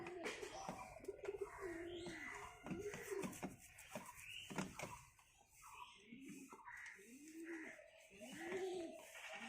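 Pigeons coo near a home coop while being fed, several soft rounded rolling coos repeating through the stretch, with scattered chirps and a faint voice in the background.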